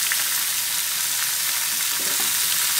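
Ash gourd frying in a pan with onions already browned, giving a continuous loud sizzle with light stirring scrapes and no voices.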